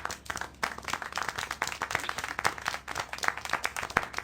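Applause and clapping in the video game Syberia, a faint, scattered crowd of hands clapping with irregular sharp claps throughout.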